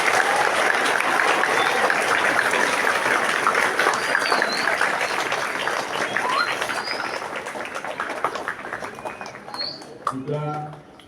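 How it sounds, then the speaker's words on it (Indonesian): Students at a school flag ceremony for Indonesian Independence Day applaud their teachers, a broad outdoor wash of clapping that gradually thins and fades near the end, with faint bird chirps and a brief voice at the close. "Sudah layaknya anak-anak memberikan tepuk tangan untuk Bapak Ibu guru."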